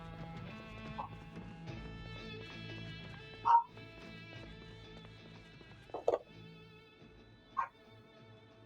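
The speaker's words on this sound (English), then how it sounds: "Sorry if you can hear the dogs barking." Dogs bark a few times at a distance through open windows, short yips and woofs scattered over a quiet indoor background with game sounds and no talk.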